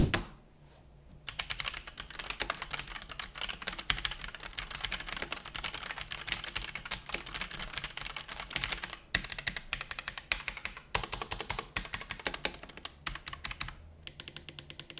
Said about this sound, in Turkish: Bu kırmızı anahtarlar sessiz bir yapı sunuyor bize.